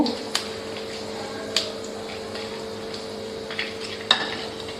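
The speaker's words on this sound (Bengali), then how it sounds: "গোটা গোলমরিচ গোটা জিরে গরম মশলা আর তেজপাতা শুকনো লঙ্কা এটা আমি ফোড়নে দিয়ে দিলাম দিয়ে আমি একটু নেড়ে নেব" Whole black peppercorns, cumin, garam masala, bay leaf and dried red chilli tempering in hot oil, a low steady sizzle with a few sharp clinks of a spoon against the pan scattered through, no talking.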